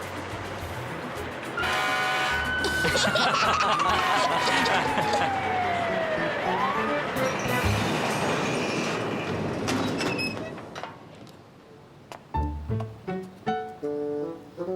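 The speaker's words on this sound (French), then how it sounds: "Il déclenche la sirène qui est sur le toit du camion." A cartoon fire truck's rooftop siren wails and slowly slides downward amid rumbling vehicle noise and voices, followed by scattered knocks and clanks.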